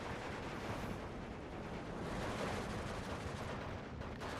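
Mortar rounds fired at a Soviet ISU-152 in the Steel Division 2 war game, heard as a dense, rumbling barrage of blasts and gunfire that runs without a break under battle ambience.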